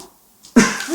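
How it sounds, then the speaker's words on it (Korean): A single short cough from an elderly man, seventy years old, bursts out close and loud after a brief near-silence, with a rough throaty tail. "당신 웬 기침을 그렇게 해요?"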